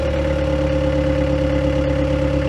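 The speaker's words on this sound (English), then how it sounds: "You're sitting next to the engine." Engine of a Mahindra FC forward control 4x4 vehicle idling, heard from the seat right beside it as a loud, steady low drone with an even hum and faint clatter throughout.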